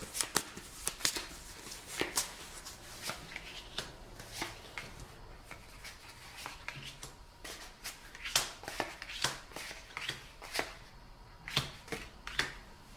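Cards for the board game Descent 2nd Edition are riffled and shuffled repeatedly at close range, a series of crisp papery bursts and flutters with short pauses between them.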